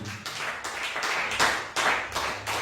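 Congregation clapping hands together for Jesus at a Swahili church service, a steady fast run of close claps with brief swells and dips over about two seconds, no talk.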